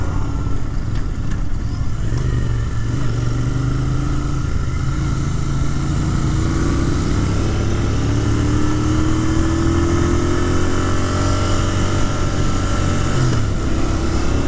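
A 2023 Royal Enfield Continental GT 650 motorcycle engine runs steadily near and loud, its pitch swelling and falling as it revs toward higher RPM, with no talking.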